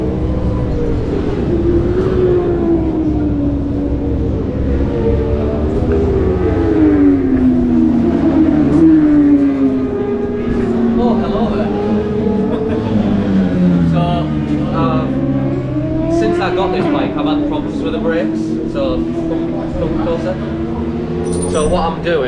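A motorcycle engine drones and revs continuously on a race circuit, pitch sweeping up and down as it runs through 2nd and 3rd gear, loud and close, with a rider talking over it.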